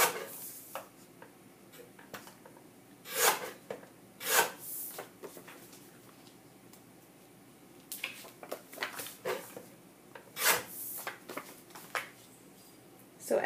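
Material is trimmed and rubbed by hand for a GIS pattern, giving scattered close scraping and snipping bursts between quieter stretches of faint rustling.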